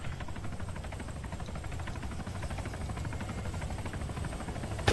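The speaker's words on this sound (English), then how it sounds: "Is the helicopter still just floating there?" A helicopter hovering in the video game ARMA 3, its steady rotor thrum and engine whine droning continuously at even loudness throughout, with no talk over it.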